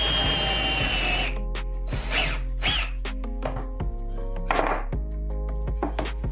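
A power drill bores into a tabletop, with a cable tie used as a depth stop: a loud, high motor whine for about a second, then a series of clunks, taps and brief bursts of drilling, close up.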